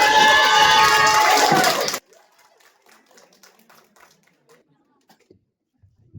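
A loud burst of crowd cheering and clapping at a church youth singing competition fills the first two seconds, then cuts to near silence with only faint scattered sounds.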